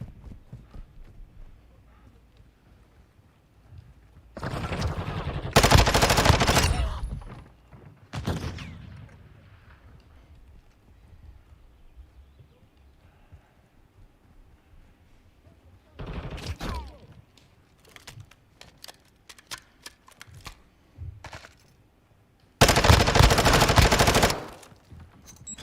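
Bursts of automatic gunfire in Call of Duty Modern Warfare II, fired from a Vaznev-9K: a short burst early on, then a brief one mid-clip and a loud sustained burst at the end, with quieter clatter in between.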